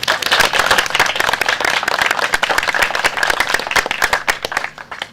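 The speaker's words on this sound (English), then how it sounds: "we can give him a round of applause anyway" An audience at a croquet open singles championship prize-giving claps for a winner who is absent: dense, steady applause from many hands, close and loud, with no talking, tapering off in the final second.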